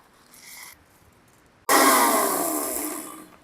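A mixer grinder grinds roasted spices for Chettinad egg curry into a fine powder, a loud whirring burst starting abruptly after a brief faint sound and running steadily to the end, slowly easing.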